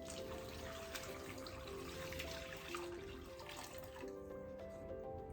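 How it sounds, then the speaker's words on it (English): Brine poured over meat in a kitchen, a steady, moderately loud stream of liquid running continuously with faint tonal ringing from the container, no voices. "I'm gonna pour the brine over, and then I'm gonna put it in the refrigerator"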